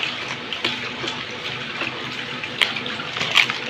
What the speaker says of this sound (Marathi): गार पाणी ओतून घेऊ बाई